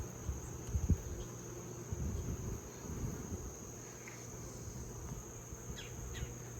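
Bees at an opened hive make a soft, steady insect drone, close by, with a few knocks and handling noises near the start.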